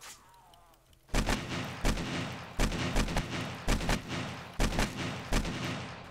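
Heavy gunfire in the survival game 7 Days To Die, loud booming shots at a steady interval of about one per second, each with a rumbling tail, following a quiet start.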